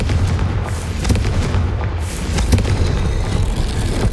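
A Confringo spell blast in Hogwarts Legacy, heavy booming explosions and rumbling impacts thundering continuously and loudly over the whole stretch, with no talk.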